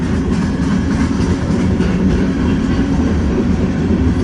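A long freight train rolls steadily past, including old Conrail, Southern Pacific and Missouri Pacific cars, filling the air with a dense, continuous low rumble and faint wheel clatter at close range.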